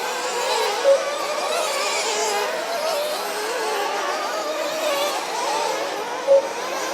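RC racing cars run laps at a world championship track, their small engines making a steady high buzzing whine that overlaps continuously at mid distance, with a couple of brief sharper chirps standing out.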